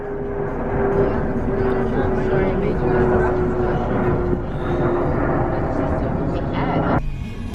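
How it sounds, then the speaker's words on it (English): An airplane flies overhead during a car ride, a broad roaring drone with a steady whining tone, heard through car noise while people talk, fading near the end. "The plane! The plane!"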